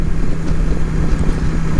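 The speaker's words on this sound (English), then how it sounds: "even the factory exhaust sounds lumpy" A Suzuki Intruder cruiser motorcycle with a factory exhaust and single overhead cams rumbles in a lumpy low burble, heard close and loud through heavy wind noise while riding.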